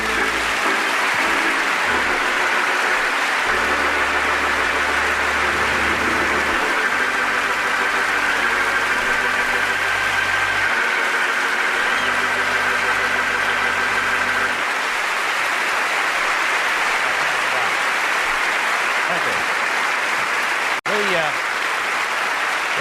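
Sustained applause from a live theater audience at a comedy show in Carnegie Hall, a broad steady roar that runs the whole time, with a low tone under it early on.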